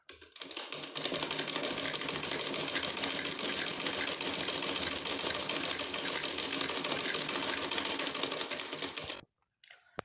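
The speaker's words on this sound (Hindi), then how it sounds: "अब एक का तो सिलाई लग गई है, अब दूसरे की सिलाई लगा रहे हैं।" A sewing machine stitches a warm sock, running in a fast, even mechanical chatter for about nine seconds before it cuts off into silence.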